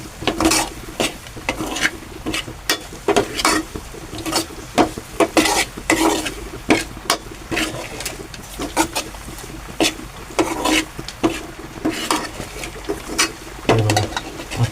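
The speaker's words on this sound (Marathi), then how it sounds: "आपला कांदा वगैरे मी हा असा परतून घेतलाय लाल सरळ करून." Onion being sautéed in a pan until reddish, heard as repeated scraping and clattering of a spoon against the pan over a soft sizzle, the strokes coming in irregular bursts with no talk.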